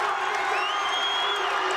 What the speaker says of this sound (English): Crowd is into it in the AFEC